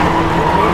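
The Hyundai RN24 electric rally car drifts with a loud, close, continuous tire skid and whine, a short unbroken burst with no voices.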